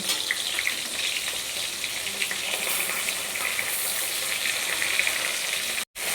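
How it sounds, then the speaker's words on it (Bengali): A fish head fries in hot oil in a wok, giving a steady, close, dense sizzle with crackling spatter that holds level throughout, cut by a brief drop just before the end, with no talk. "এখানে আমি কড়াইতে আর একটু তেল দিয়ে দিয়েছি মাথাটা ভাজবার জন্য মাছের এখন আমি মাছের মাথাটাকে ভেজে নেব"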